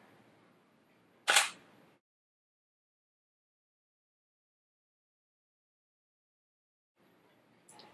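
A single sharp Canon camera shutter click fires during a TTL flash shot, brief and close, followed by near silence and a faint second mechanical sound at the end.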